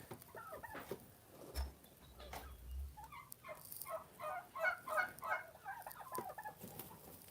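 Turkeys give faint, distant gobbling calls in quick rippling bursts, with scattered soft clucks and light background noise.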